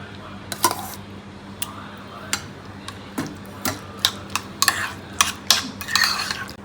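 A spoon mixes curd with a little salt in a bowl, giving a string of sharp metallic clinks and taps that start sparse and grow quicker and busier over a low steady hum.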